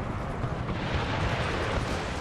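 Cannon artillery in Empire: Total War booms as a dense, continuous low rumble of overlapping blasts, loud and steady for the whole stretch with no distinct gaps between shots.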